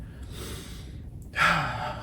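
Yawning in a drywalled attic, a single drawn-out breathy yawn swelling in loudness after a quiet stretch, fairly close.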